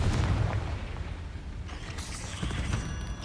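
Confringo fire spell bursting in the game Hogwarts Legacy, a dull booming blast with rumbling low end and crackle, fairly steady and loud across the moment.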